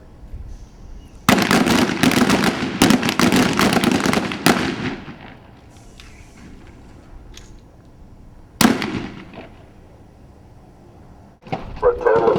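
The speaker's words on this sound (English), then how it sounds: "A total of 4 seconds to fire 2 rounds on your primary target, 2 rounds on your secondary target." Loud, close gunshots on an outdoor shooting range during the Urban Shield 2007 training event, with a rapid string of shots, a pause, a single crack and then another burst, and voices heard between the volleys.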